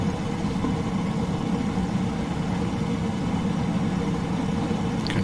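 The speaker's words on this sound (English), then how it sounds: "So we've got good engines started." Simulated piston engines of a Latécoère 631 flying boat run steadily in a flight simulator, a continuous low droning rumble at constant level with no change in pitch throughout.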